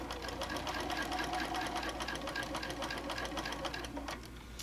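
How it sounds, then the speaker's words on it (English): A sewing machine stitches quilt fabric from corner to corner with a quarter inch foot, a steady fast mechanical whir with rhythmic needle ticks, close and continuous before slowing near the end. "we're going to come in and we're going to sew from corner to corner"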